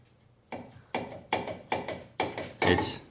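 Sledgehammer giving a brake rotor light taps during a front brake replacement on a Hyundai Santa Fe, five or six sharp metallic knocks about half a second apart, close and growing slightly louder, with no talk.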